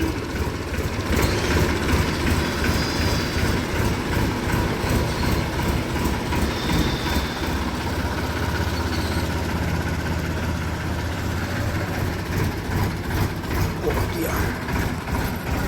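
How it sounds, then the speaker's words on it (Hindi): A tractor drives off across a farm field with a loud, steady engine rumble and a rhythmic mechanical rattle that carries on without letup. "अब चलते हैं ट्रैक्टर लेके।"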